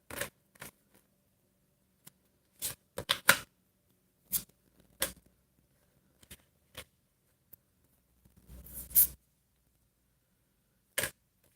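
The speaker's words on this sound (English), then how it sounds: "Let's pull some cards and see what we've got here." Tarot cards are drawn and handled during a live reading, producing a scattered series of sharp, close snaps and flicks with quiet gaps between them and no talking.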